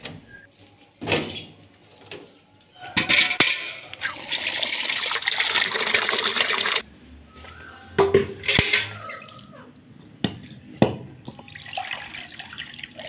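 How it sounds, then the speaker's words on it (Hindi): Water splashes and runs into a container amid clinks of dishes and metal handling, in uneven bursts with brief quieter gaps. "इसके मैंने पानी भर दिया है।"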